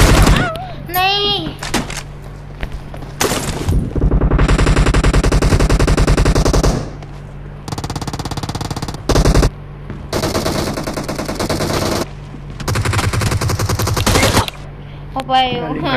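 Burst-gun fire in the mobile battle-royale game PUBG Mobile crackles in long, loud, rapid runs with short gaps, while a voice talks intermittently over it.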